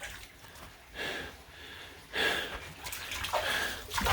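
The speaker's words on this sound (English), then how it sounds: "I'm just bailing out the water with a broom, doing my best" Flood water in a ruined basement being swept and pushed with a broom, recurring sloshing swishes in uneven strokes, close and moderately loud, with heavy breathing between them.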